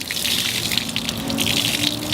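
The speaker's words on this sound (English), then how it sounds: "So I take my wash mitt and I go ahead and wring it out." Dirty water streams and splashes steadily as a car wash mitt is wrung out over a bucket during a two-bucket hand wash, a continuous close gushing with no talk.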